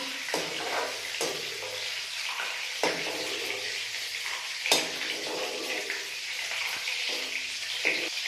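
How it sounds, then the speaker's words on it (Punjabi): Food frying in a pan hisses in a continuous, moderate sizzle with occasional stirring clatters and small pops throughout. "ਦੋ ਮਿੰਟ ਫਰਾਈ ਕਰ ਲਾਂਗੇ"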